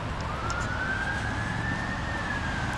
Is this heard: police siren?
yes